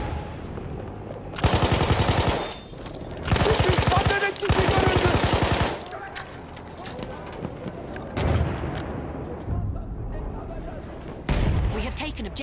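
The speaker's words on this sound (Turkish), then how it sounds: "Makine tüfek." Machine gun fire in the video game Battlefield 1, on the Suez battlefield: rapid, rattling bursts of automatic fire come in several loud salvos separated by quieter gaps, mixed with in-game voices.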